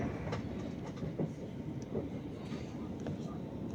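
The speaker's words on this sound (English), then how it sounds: "We have other trains passing by." Rumbling train on rail tracks with rhythmic clickety-clack of wheels over joints, heard from aboard a UK train as others pass by, steady and moderately loud with a voice speaking over it.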